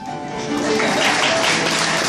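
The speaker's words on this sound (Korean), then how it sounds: "큰 박수." Guests applauding at a Korean wedding ceremony right after the bride and groom bow to each other, a dense crowd clapping that builds slightly and stays steady throughout.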